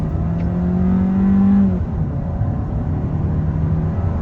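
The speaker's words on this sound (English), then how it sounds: "let's step in the gas right here" A 2021 Kia K5 GT-Line's engine hums and its tone rises as it accelerates, then settles into a steadier drone, heard close and fairly loud.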